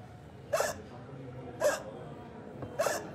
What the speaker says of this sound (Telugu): ఎక్కిళ్ళు ఆగిపోయాయా?